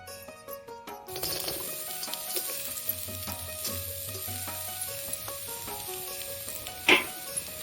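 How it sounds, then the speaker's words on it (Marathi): Chopped onion frying in oil in a village kitchen in India, a steady crackling sizzle that starts abruptly after a moment of clinking and carries on close and continuous, with a sharp clink near the end. "कांदा भाजाय पाहिजे."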